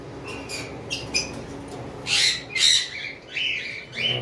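Pairs of frightened pet birds in a cage give repeated bright chirps and sharp squawks, a few calls at first and then louder bursts toward the end, with no talking.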